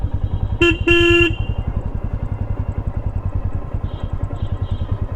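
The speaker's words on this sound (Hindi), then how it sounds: "ये देखो, हॉर्न दे रहे हैं वहाँ पे" Vehicle horns honk twice on a cold Himalayan mountain road between Shimla and Narkanda, a short toot then a longer blast, loud and close over the steady chugging of a nearby motorcycle engine.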